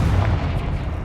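A Confringo fire spell blasts in the video game Hogwarts Legacy, a single heavy, booming burst with a low rumbling body that fills the whole short moment, loud and close.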